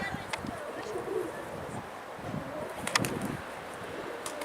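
Pigeons coo faintly in an outdoor setting near a building, soft repeated low calls mixed with scattered bird chirps and light wind, with occasional voices in the background.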